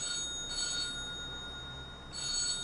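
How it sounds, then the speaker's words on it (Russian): A telephone rings indoors with a steady electronic tone in two bursts separated by a pause, moderately loud and with no voices. "И кто-то звонит."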